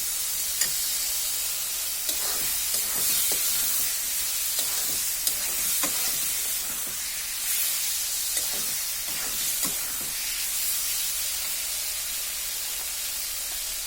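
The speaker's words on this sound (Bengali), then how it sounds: "এখন যে আলুগুলো কাটা আছে সেটা এর মধ্যে দিয়ে দিচ্ছি।" Cut potatoes drop into fried spice paste in a pan while cooking pea ghugni, giving a steady close sizzle and hiss broken by scattered scraping and stirring clatters, with no voices.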